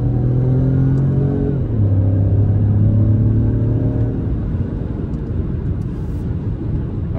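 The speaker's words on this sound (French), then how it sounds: "Alors là, par contre, le 3 cylindres, on a l'impression qu'il va exploser." A Citroën C4X with a three-cylinder engine accelerates at full throttle, a loud, close, droning engine note that climbs in pitch, drops at a gear change, then climbs again before fading into a steady rumble.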